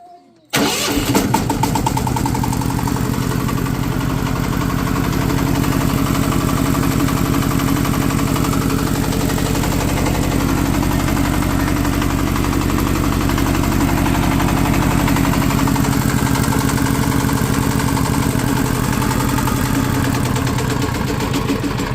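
A Chinese engine, freshly overhauled after a breakdown, starts and settles into a steady idle with a slightly raised throttle. The loud, even rumble is close-up and continuous, with no talk over it.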